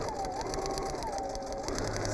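A Brother Dreamweaver VQ 3000 sewing machine stitching a quilt runs with a steady, fast mechanical whir and hum, close and continuous, with no talking.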